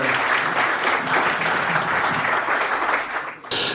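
A seminar audience applauds for nearly four seconds, dense and loud clapping that dips briefly near the end before resuming.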